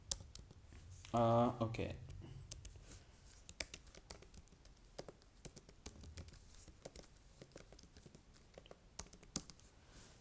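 Quiet, scattered clicks of a computer keyboard being typed on while working in Photoshop, light irregular keystrokes continuing under someone speaking.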